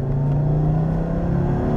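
A 1983 Audi Quattro Coupé, all-wheel drive with a five-cylinder turbo engine, pulls away hard, its engine note a steady, loud, close drone that climbs smoothly through the short burst with no talk over it.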